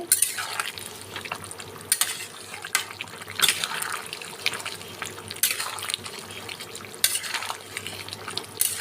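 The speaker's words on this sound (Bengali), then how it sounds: "গরম মশলা দিয়ে ভালো করে আমি পেঁপে আলু সয়াবিনের সঙ্গে মিশিয়ে নিচ্ছি" A papaya, potato and soybean curry stirred with garam masala in a pan, soft wet scraping and squelching in irregular strokes over a low background hum.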